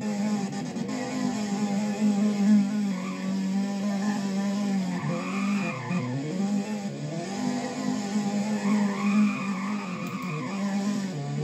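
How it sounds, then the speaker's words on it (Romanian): A Honda Civic drifts in Roblox Driving Empire, its tires skidding in long squealing arcs over a steady engine drone, loud and continuous with repeated swells as the car slides, and no voices. "Face drifturi nebuna asta."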